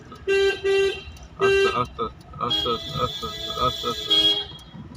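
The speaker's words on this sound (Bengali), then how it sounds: "হর্ন মারো, আস্তে" A car horn sounds during a driving lesson: three short, clear toots close by, then engine noise and an instructor's talking.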